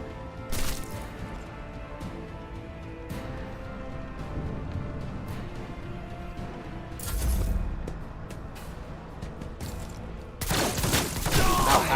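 In Warhammer 40K: Rogue Trader, a bomb attack lands as several heavy crashing blasts, one early, one in the middle and a loud burst near the end, over a constant murky rumble of battle ambience.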